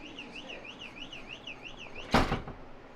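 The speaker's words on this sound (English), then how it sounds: "That was the door not closed alarm that just went off." An electronic warbling alarm in a hotel room in Korea sounds in a steady oscillating two-tone pattern, then a single loud thunk cuts across it near the end, after which the tone stops.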